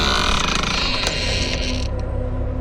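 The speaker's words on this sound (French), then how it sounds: "J'ouvre la porte" A door creaks open with a grinding, ratcheting mechanical sound, loud and close, tapering off near the end.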